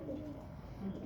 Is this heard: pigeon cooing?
yes